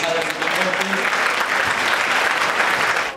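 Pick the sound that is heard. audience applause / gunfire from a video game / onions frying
audience applause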